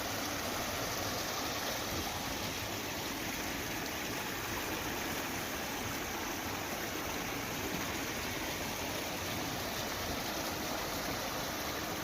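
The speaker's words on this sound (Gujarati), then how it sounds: "નદી નાળામાં પાણી વહેતા થયા છે" Rainwater rushes steadily through rivers and streams around Lalukа village in rural Dwarka after a heavy downpour, a constant dense roar of flowing water with no voices.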